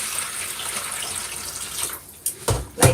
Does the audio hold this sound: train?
no